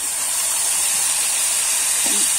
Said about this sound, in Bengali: এখানে কিন্তু আদা আর রসুন বাটা আছে, সেটা দিয়ে দেবো।